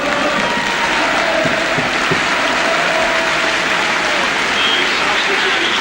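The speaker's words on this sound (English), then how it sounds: "Getting warm applause from the big crowd here at Orient for Macari as he goes off and McElroy comes on." Warm applause from a big football crowd at Orient in 1974/75 as a player leaves the pitch, a dense, continuous roar of clapping with a faint voice beneath.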